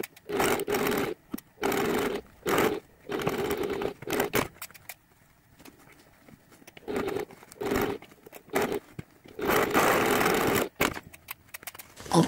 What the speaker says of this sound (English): So now I'm going to take this to the machine and sew all the way around the edge.